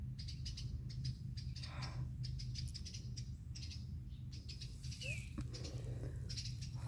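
Birds chirp in short scattered bursts around a backyard birdhouse holding a nest, fairly faint over a steady low outdoor hum, with a few brighter calls standing out.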